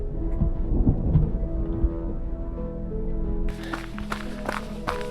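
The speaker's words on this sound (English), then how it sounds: "That storm was pretty severe." A severe thunderstorm met while out training on a trail, deep rolling thunder rumbling nearby, then the sound shifts to steady rain patter with sharper drop hits, and no one speaks.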